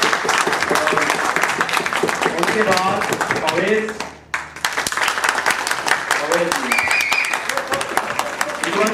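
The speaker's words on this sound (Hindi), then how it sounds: "टीचर्स चाहते हैं कि आप तालियां बजाएं" Audience at a school debate competition claps loudly, with a dense burst that breaks off briefly and then starts again, mixed with a speaker talking over it.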